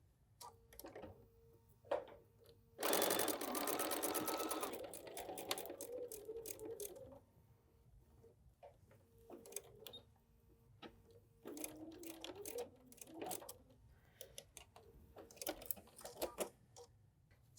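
A home sewing machine stitches a foundation paper-pieced quilt block, with a loud sustained whirring run near the start followed by shorter bursts of stitching and quiet pauses between them, close up and with no voices.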